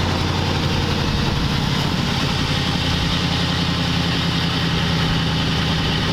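A truck engine idles steadily up close, a smooth, mellow low rumble that holds constant with no revving or break, the idle running slightly high.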